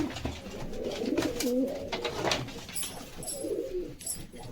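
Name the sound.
pigeons cooing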